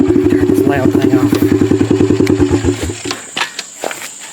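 A small gasoline engine with a cheap replacement carburetor runs near the microphone with a rough, rapid, loud chugging for about three seconds, then cuts off and leaves scattered clatter and thumps.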